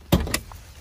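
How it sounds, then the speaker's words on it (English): Hood release of a 2019 Corvette ZR1: two sharp mechanical clunks close together, a loud latch pop followed by a second thud, then quiet. "Let's pop the hood."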